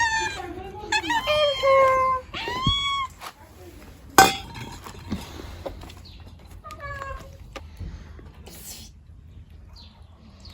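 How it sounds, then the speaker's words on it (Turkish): A cat being given milk at a village home meows repeatedly in high, drawn-out cries, close and fairly loud, with a sharp clink partway through. People talk around it. "Süt vereceğim kediye."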